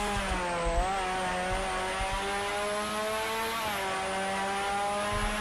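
A car engine drones at high revs in the Car Dealer video game, with a Lamborghini Huracan or McLaren F1 holding a steady tone that dips briefly twice as gears shift or the car drifts through turns.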